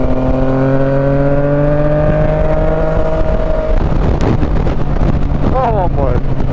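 A motorcycle engine drones loudly and close throughout, holding a steady pitch before shifting and rising as it revs, with heavy wind buffeting over it and a voice cheering near the end.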